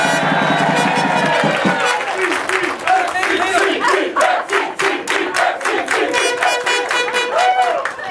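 Crowd cheering, whooping and clapping from a small cheer squad at a Carss Park sports awards night, loud and continuous with shouts and applause throughout.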